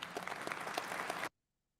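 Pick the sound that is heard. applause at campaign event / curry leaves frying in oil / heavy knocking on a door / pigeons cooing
applause at campaign event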